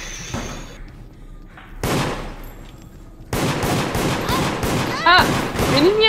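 Gunshots in the multiplayer horror game Deceit, loud rapid bursts of fire in several volleys with brief gaps, growing denser toward the end, under occasional voices.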